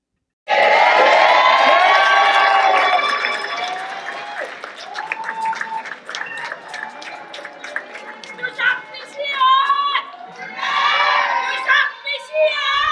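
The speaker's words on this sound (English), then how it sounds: "Lots of cheering." A crowd cheers, claps and shouts with children's voices at a kayak race award ceremony where medals go out by age division, loud at first and then rising in bursts above ongoing chatter.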